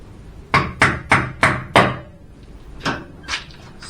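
A hammer pounds a 100 gram calibration weight onto the outer rim of a wheel on an NTB 550 wheel balancer: five sharp, evenly spaced knocks, then two softer, slower taps.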